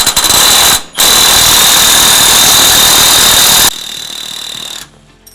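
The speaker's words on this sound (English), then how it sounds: "we like to use an impact to take it off" Loud, continuous rattling buzz of an impact wrench hammering at a Bafang mid-drive motor's chainring bolt on a Bakcou e-bike, cutting out briefly, resuming, then dropping to a softer whir before stopping.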